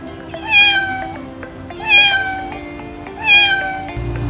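A cat meows three times at an even pace, each call clear and close, over a quiet low background hum.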